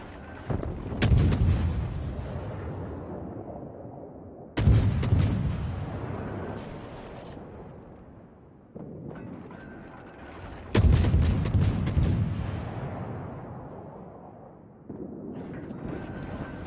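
Naval guns firing in World of Warships: four heavy booming salvos land a few seconds apart, each one rolling out into a long, fading rumble.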